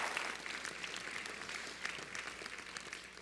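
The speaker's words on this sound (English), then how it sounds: "let's give them all a round of applause for being here to support Hank tonight" An audience at an award ceremony claps steadily, a dense even patter of applause held at moderate distance throughout.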